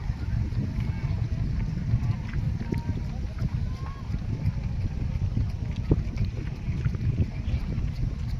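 Steady wind buffets the microphone with a constant low rumble, broken by faint scattered clicks and ambient noise outdoors.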